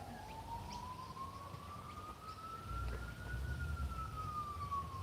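A faraway siren holds a steady rising and falling wail over low background rumble, with no talking.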